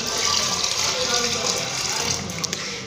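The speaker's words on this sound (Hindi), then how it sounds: "अब मैं पानी भी ऐड कर देती हूँ।" Water pours steadily into a cooking pot of soaked chickpeas for a home-cooked broth, a continuous close splashing fill that lasts the whole moment.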